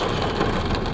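Heavy rain shower pouring steadily outdoors in Florida, a dense, loud, continuous hiss of drops with no talking; any thunder is not distinct in this short stretch.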